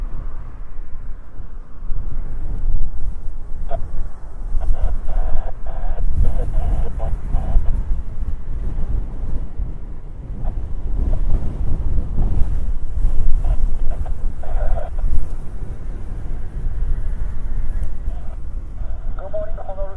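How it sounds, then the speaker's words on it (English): Strong, gusty wind roars and buffets a microphone at Honolulu airport under a high wind warning, a loud, rumbling low rush that surges and eases continuously, with faint voices or radio chatter in the background. "it's pretty darn windy"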